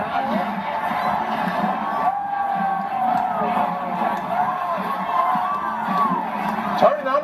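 A large crowd at a Michigan game roars and cheers continuously at a distance, a broad wash of voices with occasional louder swells and whoops.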